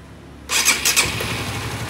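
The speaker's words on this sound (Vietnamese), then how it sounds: "Rồi thì giờ mình sẽ nô máy thử nha." A Honda Winner 150 motorcycle, its engine repaired after a mechanic's faulty tuning, is started up close: a short cranking burst that catches and settles into a steady, smooth idle, with no one speaking.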